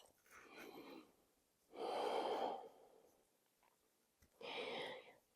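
Slow, audible breaths held during a yoga pose, three long airy inhales and exhales separated by quiet pauses, close and soft with no talking.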